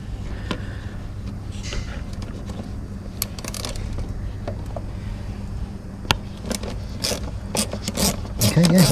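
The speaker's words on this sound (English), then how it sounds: "I've got this flexible head snap-on socket, 10mm. That should just about fit on there." Flexible-head Snap-on 10mm socket ratchet undoing a screw near a coolant leak on a Rewaco RF1 Turbo LT trike; steady rapid ratcheting clicks, close and continuous, over a low background hum.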